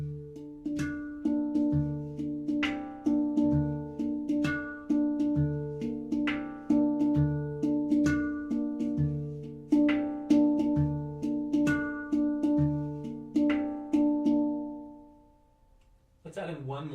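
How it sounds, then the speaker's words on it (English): An SPb Kurd 9 steel tongue drum is played in a steady, repeating rhythm that mixes central harmonic knocks and knuckle knocks, producing bright ringing tones that overlap for about fifteen seconds before fading out. "Let's combine the central harmonic knock and the knuckle."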